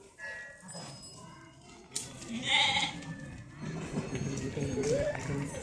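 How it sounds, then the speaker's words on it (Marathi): A flock of goats bleats outdoors in a rural Maharashtra village setting, several short, wavering cries scattered through the stretch amid background rustle and movement. "एक बकऱ्यांचा कळप दिसतोय।"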